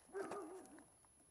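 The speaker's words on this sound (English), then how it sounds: "Got a dog barking at me." A single dog barks nearby outdoors, one drawn-out, whining bark-howl that bends in pitch, fairly quiet, then fades into calm background.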